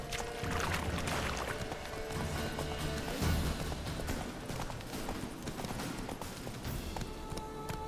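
Roach, the horse in Witcher 3: Wild Hunt, galloping with a rapid, steady clip-clop of hooves over a game ambience, close and continuous, no talk.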